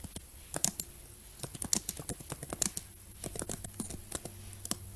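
Quick, light keystrokes clatter on a computer keyboard in uneven bursts, close and fairly quiet, with no voices.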